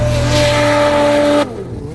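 A 2025 Freeride Turbo 146 snowmobile engine revving hard in deep snow, a loud sustained whine held for about a second and a half before cutting off sharply into a quieter idle.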